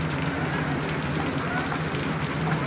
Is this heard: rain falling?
yes